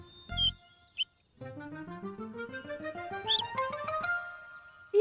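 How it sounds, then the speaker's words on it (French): A baby bird chirps in a Miffy cartoon: a few short, high cheeps come first, then a rising run of bright, tinkling musical tones with more chirps over it, clear and close. "Le pépiment d'un bébé oiseau."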